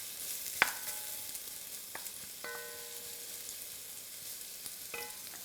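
Onions frying in a pan for Hungarian goulash, a soft continuous sizzle with a few sharp clinks of a utensil against the pan, with no talking.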